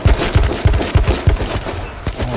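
Rapid gunfire in the video game H1Z1 rattles out in a quick burst of about a dozen loud, close shots, then thins to a few scattered reports, with no talk over it.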